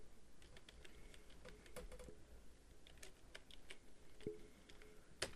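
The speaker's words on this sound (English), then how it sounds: "type your text." Quiet keystrokes on a computer keyboard as text is typed into a Photoshop document, scattered soft clicks in an irregular rhythm with a few sharper taps, close by and alone.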